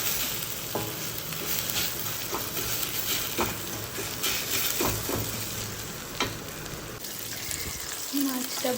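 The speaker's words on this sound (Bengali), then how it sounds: "সুন্দর লাগে, রসুন ফোড়ন দিয়ে কলমি শাক ভাজা।" Water spinach frying with garlic in a pan gives a steady, close sizzle with scattered crackles and occasional stirring clinks, continuous throughout.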